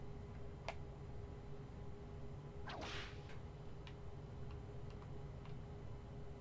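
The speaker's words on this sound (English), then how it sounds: "That's good foley work for that whip." A single sharp bullwhip crack from an N64 game rings out clearly over a steady low hum, preceded and followed by a few faint ticking clicks.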